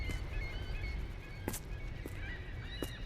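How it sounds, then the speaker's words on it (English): Birds call in The Lightkeeper game, honking goose-like cries repeating over a steady ambient background, moderately faint. "These birds really like to fuck around with you"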